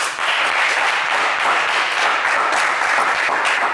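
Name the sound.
studio audience applauding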